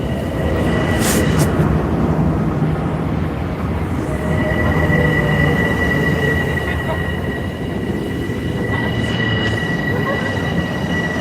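A train rolling along the rails, loud and close throughout, with a steady rumble, metallic wheel squeal and high ringing tones from the track.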